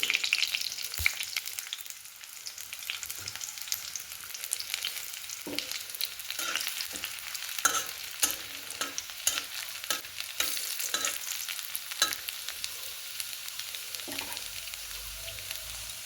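Bay leaves, dried chillies and ginger frying in hot oil for a katla fish head curry with bottle gourd and mung dal make a constant bright sizzle, with occasional clicks and scrapes of stirring and no voices.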